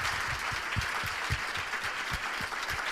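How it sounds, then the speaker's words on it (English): Audience applause at a Bautopia welcome-words session, a steady broadband wash of clapping sustained throughout with close low thumps of nearby hands, fairly even in level. "a big applause."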